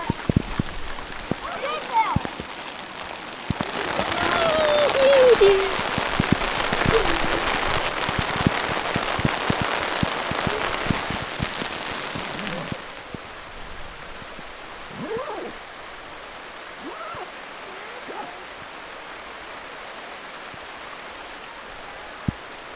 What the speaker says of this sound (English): Hailing now.